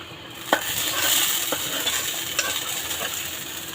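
Fried rohu fish heads tipped into a pan and stirred, giving a soft sizzle broken by a few sharp scrapes and clinks of a utensil against the metal pan, close up with no voices.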